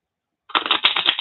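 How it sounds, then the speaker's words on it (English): A deck of playing cards is riffle-shuffled close up, giving a short burst of rapid fluttering clicks that starts abruptly after a silent beat and carries no talk. "I'm just shuffling the cards a lot because I like it."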